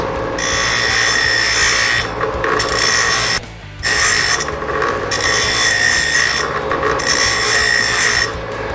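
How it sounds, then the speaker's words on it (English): Metal ends being ground off with a power grinder while turning an old water heater into a barbecue: a loud, close, harsh whining rasp in long bursts with brief pauses, no speech. "Grind it off like that, do both ends."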